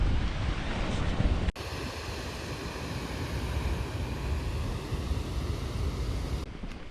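Sea waves crash and splash against an Albanian shore in strong wind, a loud continuous surge with gusty buffeting on the microphone and a sharp break early on, with no voices.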